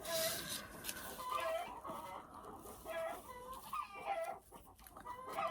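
Faint, somewhat distant flock of chickens clucking in steady repeated bursts, with an occasional drawn-out crowing note and no voices.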